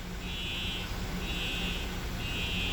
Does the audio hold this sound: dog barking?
no